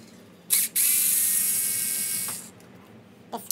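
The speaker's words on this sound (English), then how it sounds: "So number 4 need to remove the wheel hex first" Wheel hexes come off a Traxxas UDR RC truck with a powered driver: a short whirring burst, then a steady high whine for about two seconds, close up and alone, followed by a faint click.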